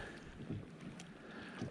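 Gusty wind buffets a microphone on a lake shore during ultralight bank fishing, a low, steady rush with a few soft swells and no voices.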